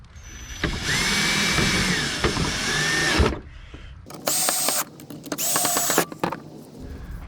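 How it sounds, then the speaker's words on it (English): A power drill whines loudly for a few seconds, then gives two shorter, higher-pitched bursts as it drives screws into the plastic gearbox of a Hayward pool cleaner. "I'm using a drill here, but you can use a screwdriver"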